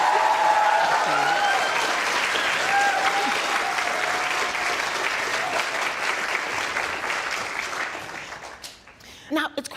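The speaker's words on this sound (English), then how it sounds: "So I think an extra big round of applause for our astronauts." A lecture audience applauds astronauts at length, a thick sustained clapping with some cheering that slowly thins and fades into scattered claps near the end.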